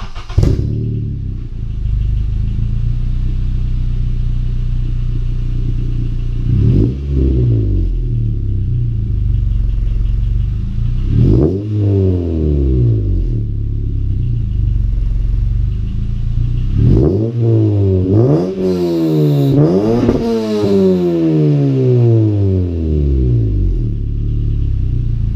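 A warm K24Z7 engine fitted with a CNT 3-inch downpipe exhaust idles with a deep rumble, then barks through several loud revs whose pitch climbs and falls, with the last burst of blips the longest and highest.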